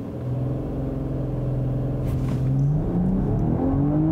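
A 2022 BMW M440i Gran Coupe in sport mode, with traction control off, brake-torques and then launches on a 0-60 run. Its deep engine drone rises steadily in pitch and grows a little louder as it accelerates, close to the listener.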